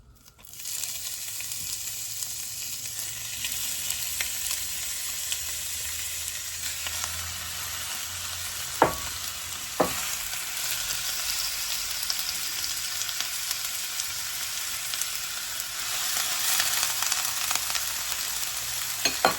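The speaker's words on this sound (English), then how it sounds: "So here goes the Italian sausage, right along with the ground beef." Italian sausage and ground beef fry in extra virgin olive oil, a dense steady sizzle that holds unbroken for nearly twenty seconds, with a couple of faint utensil clicks and no voices.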